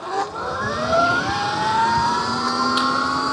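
A 79Emotos Viper S Mini electric dirt bike on its first ride gives off a rising motor whine that climbs steadily in pitch as it accelerates, close and fairly loud, with wind rumble underneath.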